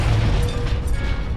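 Fiery Confringo blast spell exploding in the Hogwarts Legacy video game, a dense continuous roar of booming, crackling burst filling the whole moment, loud and close with no talk.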